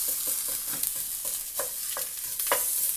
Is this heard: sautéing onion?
yes